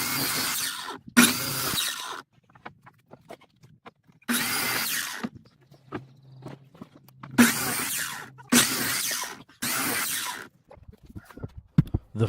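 Power saw cutting wooden wall studs to length for a workshop build, several loud bursts of a second or so each, separated by short quiet pauses in which faint handling clatter is heard.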